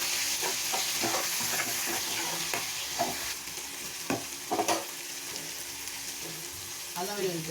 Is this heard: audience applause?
no